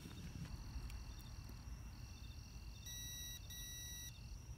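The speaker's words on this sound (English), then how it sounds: "turn on the meter, the ohms with the beeper" A multimeter on its ohms setting with the continuity beeper on gives faint, high, thin electronic tones, including a held beep near the end over a quiet background.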